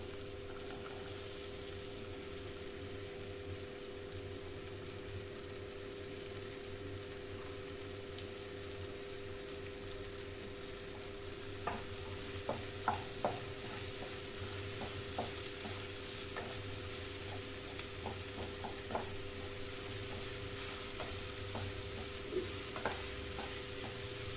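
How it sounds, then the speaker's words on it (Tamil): Ridge gourd sautéed and stirred in a pan for chutney, a quiet continuous sizzle with intermittent sharp clicks and scrapes of the spoon in the second half, no talking. "அஞ்சு ஒரு அஞ்சு நிமிஷம் நல்லா வதங்கணும்"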